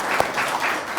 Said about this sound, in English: I cannot act otherwise than giving very warm applause